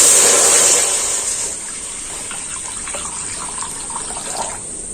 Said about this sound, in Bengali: এবার কড়াতে দিয়ে দিচ্ছি জল